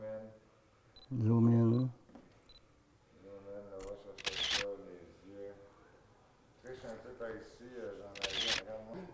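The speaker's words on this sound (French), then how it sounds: "je procède à la photo et on y va" A camera shutter snaps two quick, crisp clicks as a photo is taken, with someone speaking before and between the shots.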